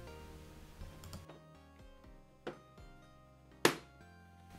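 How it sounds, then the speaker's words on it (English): A PS5 console side panel is pressed back on and clicks into place, with soft plastic clicks and one sharp, louder snap near the end, close and quiet. "you'll know that it's been reseated securely once you hear the click"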